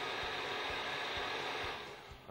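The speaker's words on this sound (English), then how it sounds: "pulse our blender." A blender pulsing tomatoes, onions and spices into a chunky salsa gives a steady, loud whirring roar that runs for a couple of seconds and then cuts off.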